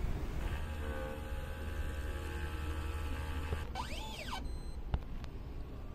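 A printer's head cleaning cycle runs with a steady mechanical hum and whir, then rising and falling motor tones and a sharp click near the end.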